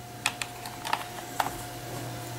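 A few scattered keystrokes on an old Zenith Data Systems PS/2 keyboard, sharp isolated clicks near the start, then quiet over a steady electrical hum.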